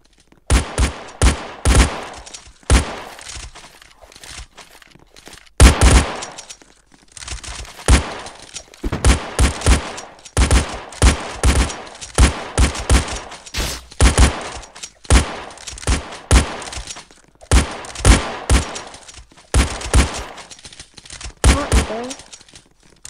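Rapid bursts of gunfire in a Murder Mystery video game, clustered volleys and single shots crackling close and loud in an irregular rhythm throughout.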